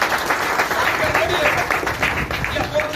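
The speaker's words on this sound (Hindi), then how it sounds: "एक बार जोरदार ताली होनी चाहिए" Audience applause after a business speech, a steady dense wash of many hands clapping continuously throughout at moderate loudness, with faint voices mixed underneath.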